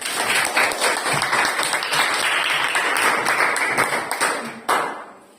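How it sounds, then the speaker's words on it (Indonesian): Students in a classroom applaud a group's presentation with brisk, close clapping that keeps up a steady patter for about five seconds before trailing off. "tepuk tangan dulu untuk penampilan dari kelompok 3"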